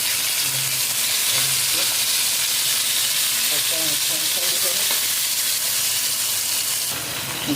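Fish pieces frying in a hot pan, a loud continuous sizzle and hiss with occasional stirring scrapes and faint voices underneath.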